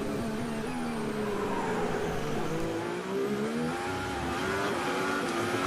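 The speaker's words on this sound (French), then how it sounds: "Beaucoup de patinage à la réaccélération pour Norris, on est dans son casque" Lando Norris's Formula 1 car, running 18-inch tyres in 2022 Austrian Grand Prix qualifying, accelerates with wheelspin: a high, rising engine whine with shifting harmonics, continuous and close, heard alone.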